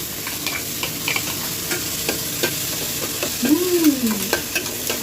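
Ginger-garlic paste masala frying and being stirred in a pan at home, a steady sizzle with scraping strokes of a utensil, close and fairly loud.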